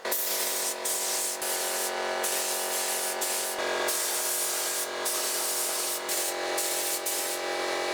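Filler etch primer sprayed onto a vintage cast iron woodworking machine: a loud, close aerosol hiss in several long bursts separated by brief pauses.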